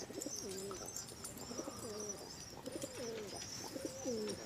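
Pigeons coo from a rooftop loft in a steady series of soft, rolling calls, repeated about four times, with faint chirps and outdoor ambience in the background and no talking.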